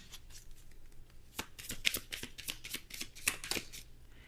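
Fortune cards being shuffled close by, a quick run of crisp riffling flicks and soft slaps with a few sharper snaps, steady and unaccompanied by talk.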